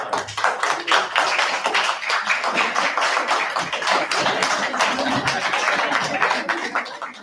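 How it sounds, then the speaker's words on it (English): An audience at a town hall candidates' night for a property owners' association board claps loudly together, a dense crackle of many hands sustained for about seven seconds with light voices mixed in. "I'd like you all to stand up and let's clap for them one more time."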